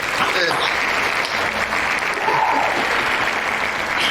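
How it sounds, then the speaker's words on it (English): Applause from a convention panel audience at an Agents of S.H.I.E.L.D. event, a steady, dense clapping that carries on evenly throughout without pause. "Let's give a big round of applause for Briana Venskus."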